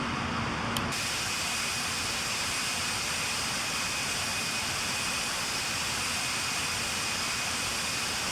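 Jet airliner engines roar loud and steady through a takeoff roll in the RFS flight simulator game, a broad continuous hiss and rumble with a faint high whine that persists unchanged throughout.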